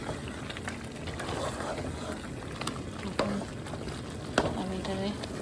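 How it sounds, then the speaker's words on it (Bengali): Bone-in chicken pieces coated in spices are stirred in a hot pan, giving a low steady sizzle with scraping clanks from the utensil, including a few sharper knocks near the end, all at moderate volume. "মশলা দিয়া আমি এটাকে আরো কষাই নিব"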